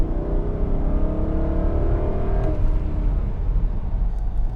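A 2004 Mercedes SL500 with a 5-liter, 302-horsepower V8 driving along: a steady engine hum that climbs slightly in pitch early on, then settles into a continuous drone under road noise.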